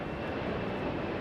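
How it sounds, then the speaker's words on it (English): An airplane passes over a Queens neighborhood in Jackson Heights, heard as a steady, broad engine roar that fills the short moment without a break. "Don't know where the plane is passing through."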